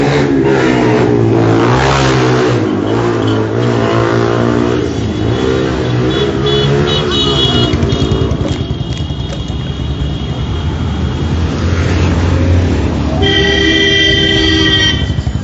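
Tractors and other vehicles roll in a Yuva Rajput Sabha rally procession in Jammu, one tractor even carrying another on top, giving a loud continuous rumble of engines with a horn-like tone near the end.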